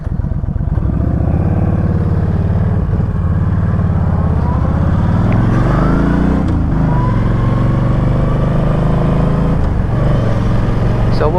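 A 2013 Yamaha Stryker motorcycle engine idles loudly up close and is revved a few times, the pitch rising and falling, with rattling mechanical noise throughout.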